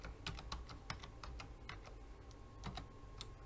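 Quick, uneven bursts of keystrokes on a computer keyboard, close and crisp clicks in short runs with brief pauses, quiet overall.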